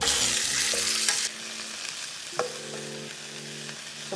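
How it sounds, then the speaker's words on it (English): Minced pork sautéing in an oiled wok for Hakka abacus seeds, a loud hiss that drops after about a second into a steady quieter sizzle with a few stirring knocks. "the first thing I do is saute the minced pork."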